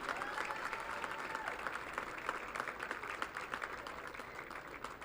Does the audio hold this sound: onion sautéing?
no